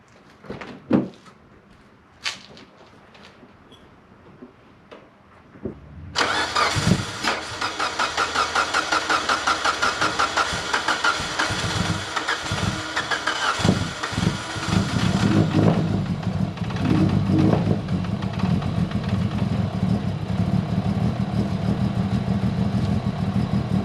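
An engine fitted with a fuel mod cranks after some clicks and handling noises, catches, and runs loudly and roughly nearby, its uneven rumble continuing for well over fifteen seconds.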